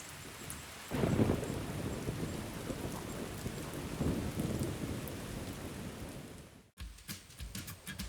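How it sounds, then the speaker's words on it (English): Thunder rolls low and steady beneath continuous rain during an outdoor storm on an elk hunt, a loud broadband rumble swelling around one and four seconds before a brief cut and choppier rain-spattered sound. "Looks like we got a storm moving in here. I hear the thunder rolling here behind me."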